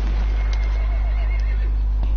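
A horse neighs and whinnies in Battlefield 1, a loud nearby call with faint hoof clip-clops over a steady low game hum.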